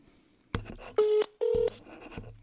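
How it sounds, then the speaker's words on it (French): A telephone number dialed on a keypad phone, a clunk of handling followed by two long loud touch-tones and then more soft handling noise, with no speech. "on appelle ici ce monsieur, Nestor Wembois"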